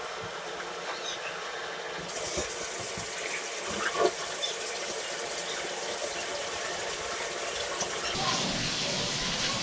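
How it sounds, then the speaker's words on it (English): Water poured into a clogged toilet bowl, a continuous loud gushing splash running for several seconds before easing off, close by with no talk. "I'm gonna pour some water in the bottom of the tank, or bottom of the bowl, and see if we flush anything out"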